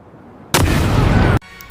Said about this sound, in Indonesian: Tiba-tiba, telepon tersebut meledak yang menewaskan mereka semua.